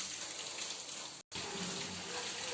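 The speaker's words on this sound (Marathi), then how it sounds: "छान पाण्याला उकळी आलेली आहे" A steady, close hiss and bubbling of about one and a half glasses of water boiling in a pan for upma, broken by a brief cut of silence midway.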